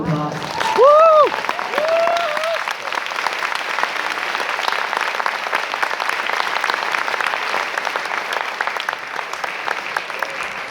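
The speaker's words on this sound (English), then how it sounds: "Let's give him a round of applause." Applause and cheering from a graduation ceremony audience honoring a graduating student, a loud whoop over the start, then sustained dense clapping filling the hall throughout.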